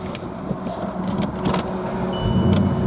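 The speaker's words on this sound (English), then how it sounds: "So we'll start the car up." A Bentley Continental GT V8 S with its 4.0-litre V8 being started from inside the cabin, with a few clicks and a brief whir before the engine catches and builds to a strong, close rumble at the end.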